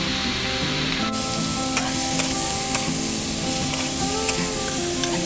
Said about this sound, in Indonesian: kita aduk sebentar agar bisa tersebar merata